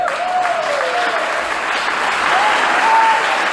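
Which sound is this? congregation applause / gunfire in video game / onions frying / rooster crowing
congregation applause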